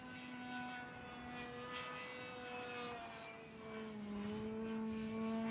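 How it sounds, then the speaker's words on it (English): A SkyLane-250 aircraft flies in full fixed-wing mode with its hover motors switched off, giving a faint, steady propeller drone with a clear tonal hum that dips slightly in pitch before rising again. "the aircraft has switched off the hover motors and is in complete fixed wing mode."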